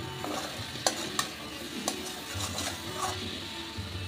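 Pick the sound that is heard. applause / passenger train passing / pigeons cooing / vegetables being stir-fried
vegetables being stir-fried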